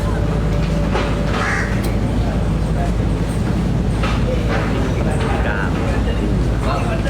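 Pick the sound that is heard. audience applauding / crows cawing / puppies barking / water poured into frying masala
crows cawing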